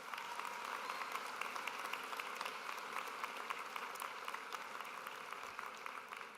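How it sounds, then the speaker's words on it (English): A large graduation crowd in an arena claps for school administrators, a sustained, even wash of applause heard from a distance, fairly faint and diffuse with no voices over it. "Please give all of the administrators a round of applause."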